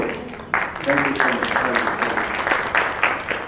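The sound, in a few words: audience applause at a seminar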